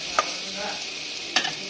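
Onion, green chilli and garlic fry in oil while being stirred, with a steady close sizzle broken by two sharp spatula scrapes against the pan.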